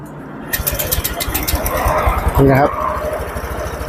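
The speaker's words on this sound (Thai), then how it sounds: "เครื่องยนต์สตาร์ทติดแล้วนะครับ" A Honda PCX 150 scooter with a stumbling, hard-starting fault cranks and fires up, then settles into a fast, rattly idle heard up close, with someone talking over it.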